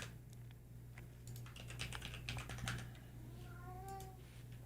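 A cat meows indoors, a short rising-and-falling call near the end, heard over a steady electrical hum and some clicking keyboard typing earlier on.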